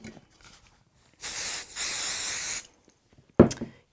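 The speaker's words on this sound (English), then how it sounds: "Give it a spray." A spray bottle misting quilting fabric, a long hissing spray burst lasting over a second, broken by a brief dip, followed by a short sharp knock as the bottle is set down.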